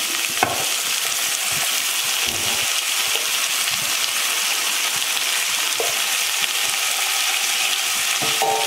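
Diced potatoes, peas and cauliflower sauté in hot oil for a Chettinad vegetable kurma, giving a continuous close sizzle broken by occasional clinks and scrapes of stirring, with no talking.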